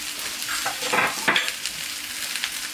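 Garlic sizzles as it fries in a pan while being stirred, a steady crackle with a few louder scraping stirs, close and alone with no voices.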